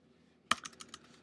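Typing on a computer keyboard during a programming lecture: one sharp, loud keystroke followed by a short run of softer, quicker clicks, close by with no talking.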